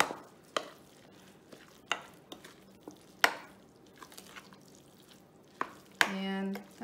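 A spoon scrapes and taps through a wet potato kugel mixture sprinkled with matzah meal in a home kitchen, giving sharp irregular knocks against the bowl and soft squelches, with a brief clatter near the end.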